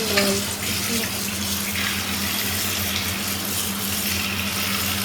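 Tap water pouring steadily over fish in a home kitchen, a continuous close splashing gush that runs evenly throughout.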